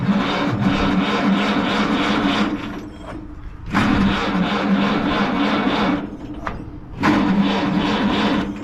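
An antique tractor engine cranks at an equipment auction without catching, three long bursts of steady rhythmic churning from the starter, each followed by a brief pause.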